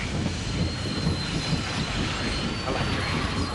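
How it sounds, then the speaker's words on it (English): A train rolls past in the video game Dark Cloud 2, a steady rumbling clatter of wheels on rails with faint squeal, loud and continuous throughout. "Oh, train."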